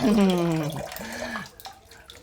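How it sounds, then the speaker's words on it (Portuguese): Water runs softly and steadily, as from a tap, while orchids are being repotted into cachepots; a voice hums or speaks over it at the start before the flow continues alone. "barulhinho da água."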